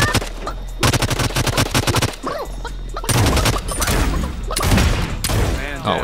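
Rapid automatic gunfire from a weapon in the video game Realm Royale, loud bursts of repeated shots with explosive impacts, while a voice talks underneath.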